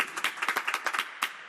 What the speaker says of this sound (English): I appreciate that thunderous applause